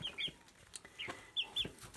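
A young rooster chick makes several short, high chirping clucks in quick pairs, close by and fairly soft over a quiet background.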